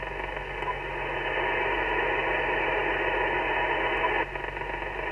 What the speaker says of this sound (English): Listen to the static.